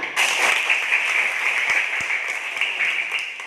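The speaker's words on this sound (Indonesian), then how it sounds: "Berikan tepuk tangan." Children applaud during a health education session about clean water, a steady, fairly loud burst of many small hands clapping together with a few sharp individual claps standing out.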